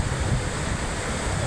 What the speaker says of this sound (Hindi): देखिए, जब पानी नीचे गिरता है तो कितने कलर में होके बहता है।